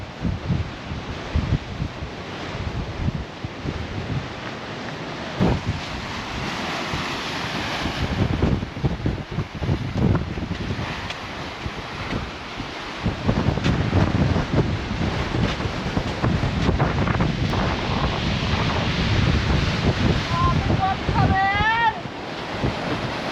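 Ocean waves surge and crash repeatedly at Nazaré during a coastal event warning, amid gusty wind buffeting the microphone, with occasional voices and a brief whistle-like tone near the end.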